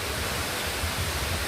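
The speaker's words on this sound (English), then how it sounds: "I am in Ghana and I'm at the waterfalls." Wli Agumatsa waterfall in Ghana's Volta Region, heard as a steady broadband roar of falling water, constant and even, with no voices over it.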